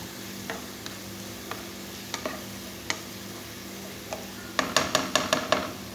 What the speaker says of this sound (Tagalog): Igisa po natin yung dal.